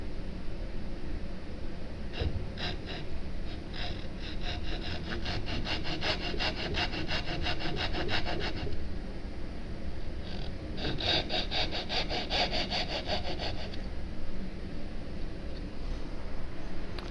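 Hand saw cutting wood for tray joinery, starting in a dado, with rapid rhythmic rasping strokes close by in two long runs split by a brief pause.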